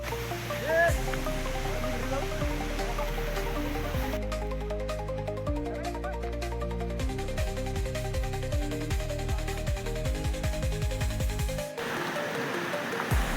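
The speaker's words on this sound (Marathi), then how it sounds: "धबधबा भाई जवळच वाटतोय." A waterfall close by on a slippery forest trail in the Konkan countryside roars as a steady, loud rush of water throughout, while people talk over it.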